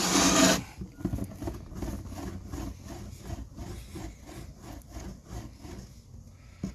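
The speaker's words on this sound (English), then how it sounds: "I'm going to roll it into a coil." Clay rolled into a coil by hand on a work surface, soft rhythmic rubbing strokes repeating close by after a brief louder scrape at the start, with no speech.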